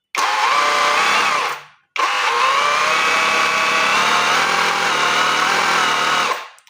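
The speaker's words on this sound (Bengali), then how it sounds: "তারপর হচ্ছে আপনাদের হ্যামার ড্রিল মোড।" A cordless hammer drill runs in hammer drill mode, loud and close, with a rough, buzzing rattle over the motor whine in two bursts, a short one and then a longer one of about four seconds.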